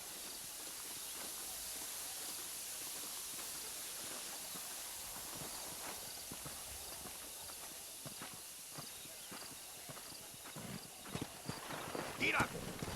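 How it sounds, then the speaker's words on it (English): Horse hooves clip-clop in a steady walking rhythm in Red Dead Redemption, moderately close, over a constant hissing background, growing busier and louder toward the end. "Come on, horses are over here."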